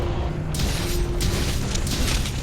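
A magma core bursts on Zorah Magdaros in Monster Hunter World, a deep rumbling boom with crackling debris that rolls on through the whole span.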